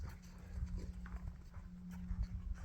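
Hooves of a young horse loping or cantering in a training circle, a steady repeating rhythm of soft thuds under a constant low hum, fairly close and moderate in level.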